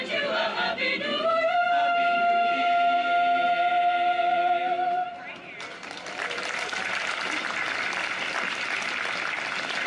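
Audience at a community Christmas tree lighting applauding madrigal singers, with sustained clapping and cheers that rise as the last sung chord fades, loud and fairly close.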